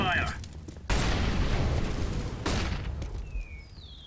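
A thrown fire grenade ignites and burns in CS:GO on the Inferno map. A sudden loud whoosh of flame roars and crackles for about a second and a half, then settles into a lower burning hiss with faint whistling tones behind it.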